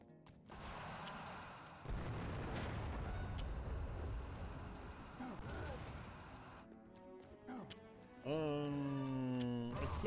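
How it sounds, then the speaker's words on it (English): Explosions and gunfire from the video game Turok Evolution, a run of booming blasts and crackling bursts with some pauses, followed by a synthetic tonal sweep near the end. "Explosions are always fun, good fun."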